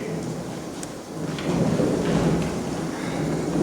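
Stage-production thunderstorm with rumbling thunder and steady rain, a continuous broad roar that swells louder midway and holds, with no talk over it.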